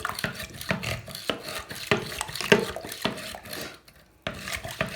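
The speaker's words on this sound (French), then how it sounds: "Alors, on va mélanger notre liquide." A whisk beats liquid crêpe batter in a bowl, rapid rhythmic clattering and sloshing close by in continuous strokes, stopping briefly near the end before resuming.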